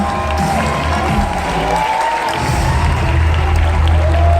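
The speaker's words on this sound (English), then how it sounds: "Give them a big round of applause." Loud, dense applause from an audience honoring athletes at a USANA event, with some cheering mixed in and a steady crowd roar running throughout.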